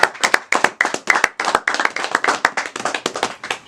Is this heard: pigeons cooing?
no